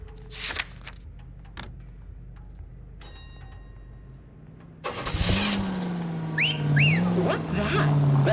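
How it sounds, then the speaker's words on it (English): Two quick rising whistle chirps from a lemon wash radio advertisement ring out inside a car in LA Noire, over a car engine that has just started and is idling nearby. "That's the lemon wash whistle"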